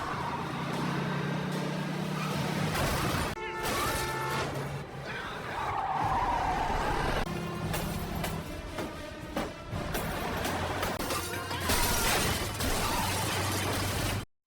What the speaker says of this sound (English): The chase ends with both buses crashing